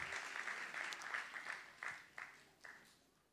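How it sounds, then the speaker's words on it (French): Crowd applause for the mayor at a city award ceremony in Courbevoie, fairly faint and distant, a continuous patter of clapping with a few sharper individual claps standing out near the end. "Ce dernier prix va être remis par Monsieur le maire, vous pouvez l'applaudir"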